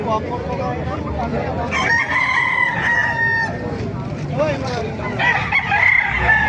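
Roosters crow repeatedly at a crowded poultry market in Calumpit, Bulacan, several loud calls overlapping amid steady crowd chatter and people talking nearby.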